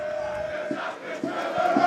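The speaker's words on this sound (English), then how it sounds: "You can just hear the crowd, the Ultras, they're all always going to be here for a massive game." Rugby Ultras crowd at a university men's match between Cardiff Met and Hartpury, a loud, continuous roar of cheering and chanting with a few rhythmic thumps underneath.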